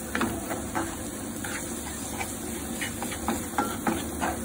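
Butter melts and sizzles in a pan for carbonara with a soft steady hiss and faint crackles over a low background hum, close and moderately quiet.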